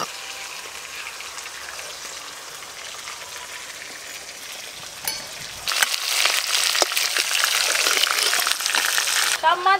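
Pieces of tuna fry in a pan with a soft sizzle that swells into a louder, dense crackle partway through. The sound stays close and continuous, with stray pops on top.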